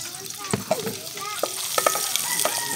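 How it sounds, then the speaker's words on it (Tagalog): Garlic and onion frying in a hot pan, a steady close sizzle with scattered stirring scrapes and clinks throughout. "Ilalagay na natin yung sangkap na ahos, sibuyas."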